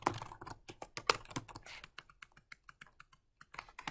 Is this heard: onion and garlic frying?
no